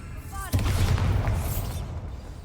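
A Confringo fire spell from Hogwarts Legacy fires with a sudden loud blast, then a roaring, crackling burst lingers and slowly fades over the next two seconds, preceded by a brief whooshing cast.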